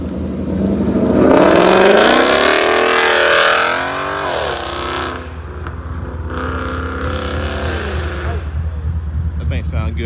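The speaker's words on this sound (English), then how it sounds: "You gonna do a little burnout right there?" A Mustang's engine revs hard and screams up in pitch with tires spinning in a burnout, then settles to a rumbling idle; a voice talks over it nearby.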